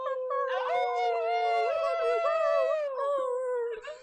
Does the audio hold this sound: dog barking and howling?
yes